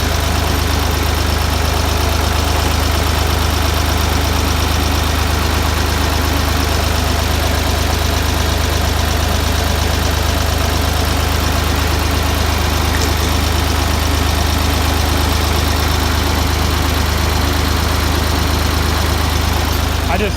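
Ford 2000 diesel tractor engine idling, a loud, steady low rumble with an even knocking beat that runs unchanged throughout.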